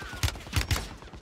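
Gunfire in the battle royale video game Call of Duty Warzone, three sharp shots in quick succession, close and punchy, with a brief fading tail.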